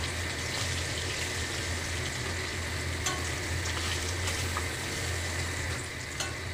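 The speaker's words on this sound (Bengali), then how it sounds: "সব মাছগুলো ভেজে নিলাম।" Small hilsa fish pieces frying in oil in a kadai, a loud continuous sizzle and crackle up close with occasional sharp pops and spatter, no voices.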